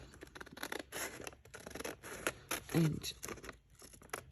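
Scissors cutting tracing paper ephemera for a journal, a series of close crisp snips and rustling paper, with a brief word spoken.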